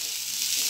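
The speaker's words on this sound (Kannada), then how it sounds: "ಉಳ್ಳಾಗಡ್ಡಿ ಬೀನ್ಸ್ ಹಾಕ್ಬಿಟ್ಟು ಸ್ವಲ್ಪ ಫ್ರೈ ಮಾಡ್ಕೋಬೇಕು" Chopped onions and beans fry in a hot pan with oil, giving a steady, close bright sizzle that holds evenly throughout with no talking.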